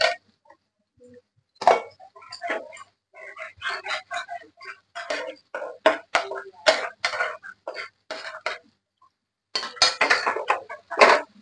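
Spice paste being stirred and fried in a pan for coconut prawn, heard as irregular bursts of spoon scraping and clinking against the pan, separated by short quiet gaps.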